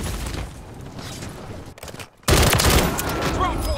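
Call of Duty Warzone gunfire in the Urzikstan map, sustained automatic bursts that drop away briefly before a loud volley resumes and carries on, with players talking over it.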